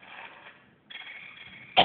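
Hoarse coughing from creatures in the Silent Hill video game, a couple of raspy bursts separated by a brief pause and ending in a sharper cough, fairly close and alone.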